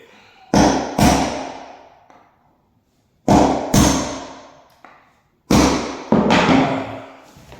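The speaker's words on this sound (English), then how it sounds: "put it on the head of the nail and give it a whack" A hammer strikes a nail set to countersink nails in a hardwood floor, delivering sharp loud metallic whacks in pairs of two, close by, with ringing decay and pauses between each pair.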